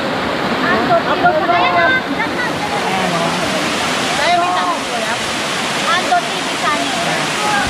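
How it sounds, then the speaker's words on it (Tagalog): Talon Eva Falls pours in a loud, continuous rushing roar of falling water close by, with people chatting over the steady wash. "ang ganda ng falls"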